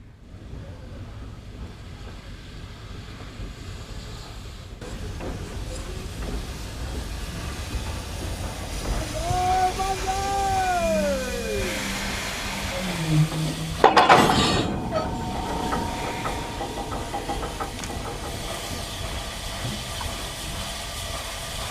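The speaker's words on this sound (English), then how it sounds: "the locomotive cuts off the train and shunts back onto the waiting hopper wagons" A steam locomotive on a Sandaoling coal line uncouples and shunts back onto waiting hopper wagons: low rumble, steam hiss, a rising whistle-like tone, and a sharp clank of buffers near the middle.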